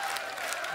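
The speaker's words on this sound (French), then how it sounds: "Applaudissements pour la jolie Lucie qui s'est encore crue chez elle." Crowd applause fills the short moment, a dense wash of clapping with no voices on top.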